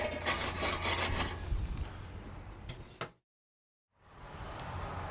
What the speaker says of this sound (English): Just get a quick little clean on the grate.